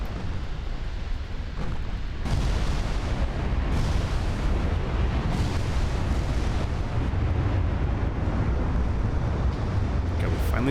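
A warship goes down in Ultimate Admiral Dreadnoughts, a naval battle game, with a dense, sustained roar of explosion and gunfire rumble, loud and continuous, including a surge a couple of seconds in.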